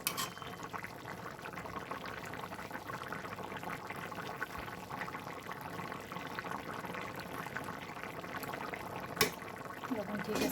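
Tengra fish curry with potatoes simmering in a pot on the stove, a steady wash of bubbling and soft hissing that runs evenly throughout, with one brief clink near the end.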